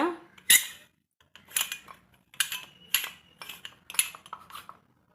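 Metal parts of a murukku press clink and clatter as a three-hole mould is fitted into it, with several separate sharp metallic knocks and scrapes spaced across a quiet room.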